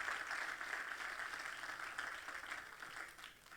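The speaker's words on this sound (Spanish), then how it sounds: "Denle ese aplauso fuerte al Señor." A church congregation gives a brief round of applause that stays distant and fairly quiet, with dense clapping that tapers off toward the end.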